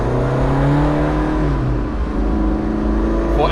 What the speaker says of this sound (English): It's quite loud for a diesel.